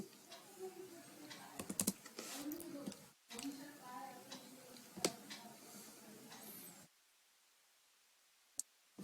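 Computer keyboard typing while a task subject is entered in a project management form, with soft irregular key clicks at moderate volume, a faint background voice, then near silence with one isolated click.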